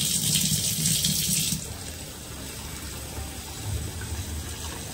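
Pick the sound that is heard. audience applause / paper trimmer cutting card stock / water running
water running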